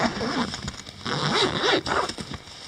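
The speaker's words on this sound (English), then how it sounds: "There's also zippers right here where you can" A zipper on the canvas of a 2019 Palomino SS 550 Badland truck camper being drawn open in several quick, close, rasping pulls, with no talking.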